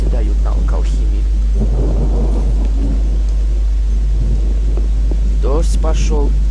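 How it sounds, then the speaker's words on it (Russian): Steady heavy rain hisses throughout, with low rumbling thunder underneath and a voice speaking briefly near the end, in the video game Gothic. "Дождь пошел."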